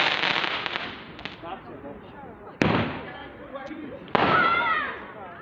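Fireworks go off in a residential neighborhood: two sharp, loud bangs with crackling trails, under earlier muffled booms and background chatter from people nearby.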